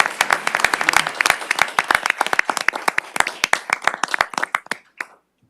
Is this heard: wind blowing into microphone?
no